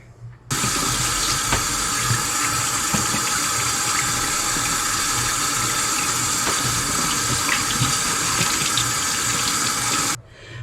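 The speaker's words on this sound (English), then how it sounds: "So wash your veggies," Vegetables rinsed under a running kitchen tap, a loud, steady rush of water that starts abruptly, pours continuously for about ten seconds, then cuts off.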